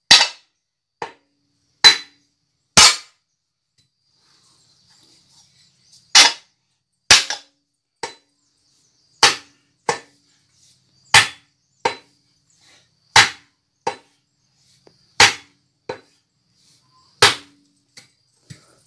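A wedge is hammered into a wooden hoe handle: about a dozen sharp, loud strikes, some in quick pairs, separated by near-silent pauses.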